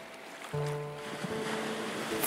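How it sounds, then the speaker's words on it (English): A steady wash of ocean waves with a low tonal hum coming in partway through, soft and continuous with no voices. "allowing the sound of the waves to calm your mind"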